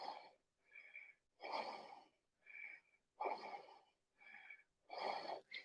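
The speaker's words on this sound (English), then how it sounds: "5 big breaths." Deep, slow breaths during a yoga wheel pose, alternating audible inhales and exhales in a steady rhythm of about five cycles, close and breathy with a slight wheezy hiss, no talking.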